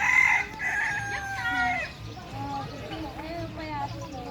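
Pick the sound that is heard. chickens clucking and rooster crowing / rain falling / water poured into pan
chickens clucking and rooster crowing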